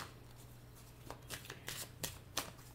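Tarot cards are shuffled up close, giving a series of short, crisp riffling bursts over a faint steady hum, with no talk.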